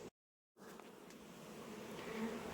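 Honey bees buzz steadily around an open hive during queen cell building, a dense close drone that stays fairly loud after a brief silent gap at the start, with no talk.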